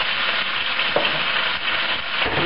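San Francisco pork chops sear in a hot pan with a loud, dense, continuous sizzle at close range, and no voices can be heard.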